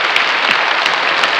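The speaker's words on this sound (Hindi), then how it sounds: "एक बार ताली हो जाए भैया, जोरदार ताली हो जाए।" An audience at a Bhojpuri film awards show claps steadily, a dense, loud wash of applause that continues evenly without pause.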